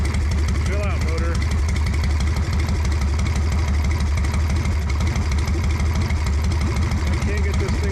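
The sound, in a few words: motorcycle engine running, struggling to idle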